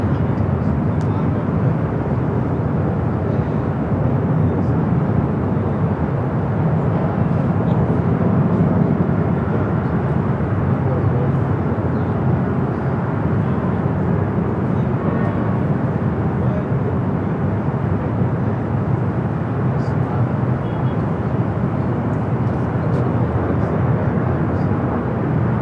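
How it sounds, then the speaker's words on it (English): A Boeing 747-8 Intercontinental inbound from Seoul approaches LAX on the north side, producing a continuous, loud, even jet rumble and broadband roar that holds steady throughout, with voices faintly present. "Flight 1-1, give it from Seoul. 747-8 Intercontinental. Heading toward us here on the north side."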